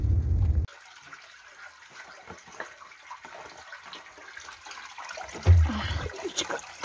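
Cold river water scooped up by hand in a village setting, a soft trickling and splashing with a brief louder slosh near the end, fairly close and quiet.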